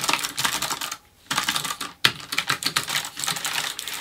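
Fingers type on a HAVIT KB395L low-profile mechanical gaming keyboard with Kailh low-profile switches, a close, rapid clatter of keystrokes broken by a brief pause near the middle, with no voices.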